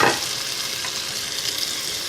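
Lentils hit a pot of sizzling cumin tempering, a burst of hiss at the start that settles into a steady, fairly loud frying sizzle, with no speech.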